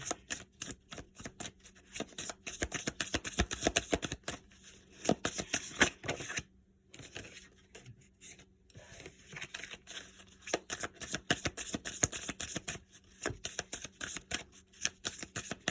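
An oracle card deck is shuffled by hand in close, repeated bursts of rapid papery riffling and tapping, with a few short pauses between rounds and no speech.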